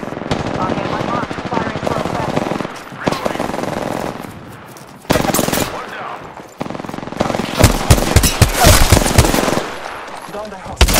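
Rapid automatic gunfire in the game Apex Legends, loud bursts of fast shots broken by short pauses, with a voice speaking over parts of the shooting.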